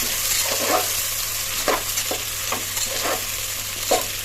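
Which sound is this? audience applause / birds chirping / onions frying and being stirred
onions frying and being stirred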